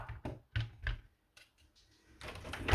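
A door closing indoors during an airsoft gun assembly, ending in a single dull thud after a few quieter knocks and shuffling sounds.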